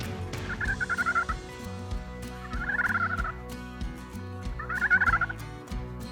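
Three short runs of raspy turkey yelps from a slate pot turkey call, each a quick series of notes, spaced a couple of seconds apart, close and moderately loud.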